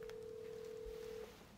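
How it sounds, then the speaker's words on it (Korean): A mobile phone rings with an incoming call during a Galaxy Z Flip demonstration, a steady electronic tone held for just over a second before cutting off, with low room noise underneath. "지금 에이트 부캐한테 지금 전화가 오고 있죠?"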